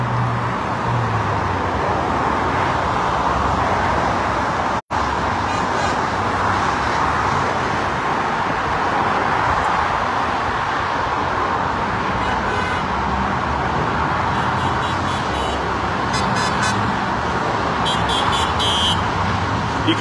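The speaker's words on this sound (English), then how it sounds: "you can hear all the honks," Traffic streams across a bridge past a roadside rally in a constant road roar, with several short car horn toots sounding faintly through it toward the end.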